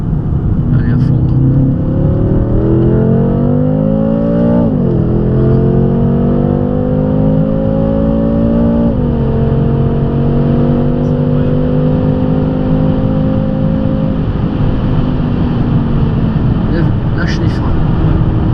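A 600 hp BMW M5 30 Jahre with an Akrapovic exhaust runs at full throttle on the Bugatti circuit, close and loud. The engine pitch climbs, drops sharply at two gear changes, then holds a long sustained roar.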